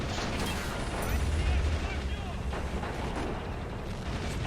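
Artillery fire and gunfire in the Men of War: Assault Squad 2 video game during a 1944 German bridge defence against a Soviet wave, including an ISU-152 vehicle hit and burning, a dense continuous roar of blasts and mechanical clatter.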